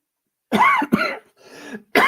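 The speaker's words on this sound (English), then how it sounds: "I'm very sorry for the cough." Three harsh, close coughs in quick succession: two forceful bursts, a softer raspy one, then a fourth starting at the end, with silence before.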